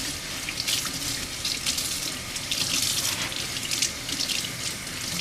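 Running tap water splashes over houseplant leaves during a rinse, a steady close rush of spray hitting foliage with slight fluctuations in the flow and no talking.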